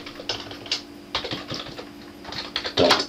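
Keys on a computer keyboard are typed in quick, close, irregular clicks with short pauses between them, with no talking.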